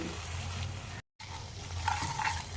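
Spice masala for a pabda fish curry with long brinjal being fried and stirred in a pan, a steady low sizzle and soft scraping with a brief cut to silence partway through.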